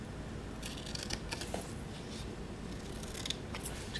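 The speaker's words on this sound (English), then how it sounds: "now we're going to take our paper snips, and I'm going to cut one of the ends" Paper snips cut across the end of a paper banner strip for a handmade card, giving a few quiet crisp snips over a faint steady background hiss, with no talking.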